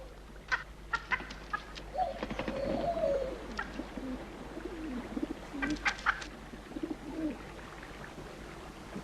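Sacred chickens in ancient Rome cluck and murmur in short, scattered bursts, with soft cooing bird calls among them, close and fairly quiet with no talk over them.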